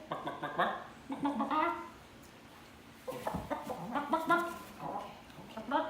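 Chicken clucking nearby in a few short bursts of rising, nasal calls separated by brief quiet gaps, close and moderately loud, with soft handling noise between the calls.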